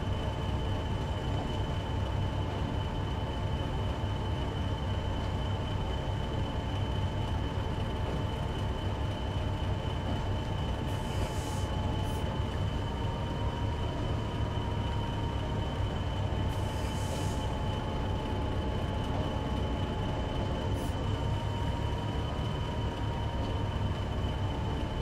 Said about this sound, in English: they've got us parking this freight train at a passenger platform